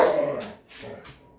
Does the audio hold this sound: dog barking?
yes